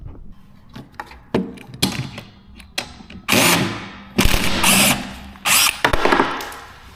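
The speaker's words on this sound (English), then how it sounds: "First, you have to remove this Allen bolt, which is 8 mm" Loosening an 8 mm Allen bolt on a Gio Tetris scooter with a power tool, several short whirring bursts with ratcheting clicks in between, growing into longer, louder runs toward the end, close up.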